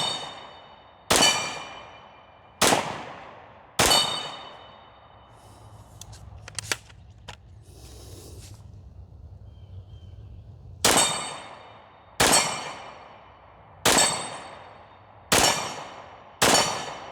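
Gunshots from a Ruger LC Carbine ring off a steel dueling tree target, loud sharp cracks each followed by a metallic clang. Four shots come in steady rhythm, then a quieter stretch of handling noise, then five more evenly spaced shots.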